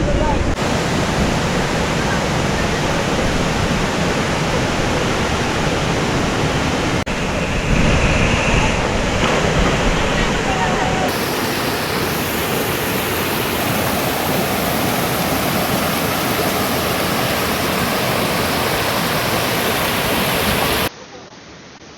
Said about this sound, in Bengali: এই যে আসি হরিণমারা ট্রেলের হরিণমারা ঝর্ণা